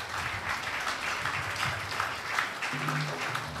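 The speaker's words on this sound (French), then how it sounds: "Bat bravo pour musiciens." A church congregation applauds its musicians, a steady wash of moderate clapping lasting several seconds, with a low sustained tone entering near the end and no clear speech.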